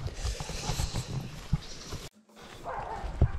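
Hunting dogs bark and yelp in rough bursts while catching a wild pig outdoors, loud, close commotion with scuffling, then a sudden cut and more distant barking afterward.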